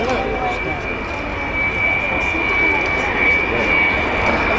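A loud, steady roar of an Avro Vulcan jet bomber passing overhead with its wheels down at an air show, with a high whine layered over the rumble and a voice talking beneath it.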